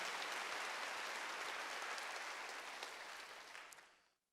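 Congregation applause fills a church during a Wednesday worship service: a dense, even wash of clapping that holds steady, then tapers off and ends.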